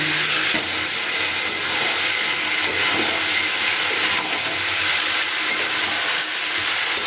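Cauliflower florets sizzle steadily in hot oil in a pan, a dense, even frying hiss with soft stirring scrapes underneath, close and continuous throughout.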